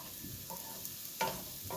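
Salmon sautéing in a pan gives a faint, close sizzle with a couple of brief bursts of crackle as it is stirred, no talk.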